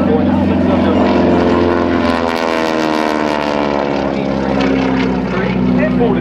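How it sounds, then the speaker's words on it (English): An aerobatic propeller airplane flying an 8-point hesitation roll at an airshow, its engine droning loud and steady with pitch shifting slightly as it maneuvers, under a commentator's voice. "He's going to demonstrate the 8-point hesitation roll."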